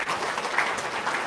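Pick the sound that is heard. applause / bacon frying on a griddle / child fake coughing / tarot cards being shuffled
applause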